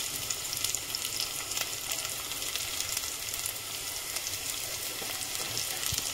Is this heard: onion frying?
yes